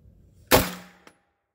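A PTR 9CT pistol has its action closed, giving one sharp, loud metallic slam or report that rings and fades over about half a second, followed by a faint short click; no voices are heard.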